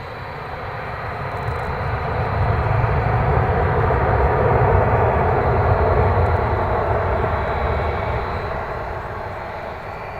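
A UPS cargo aircraft departs at Dallas Fort Worth airport, its broad engine roar swelling to a loud, sustained peak and then easing slightly as it climbs away, with no talk.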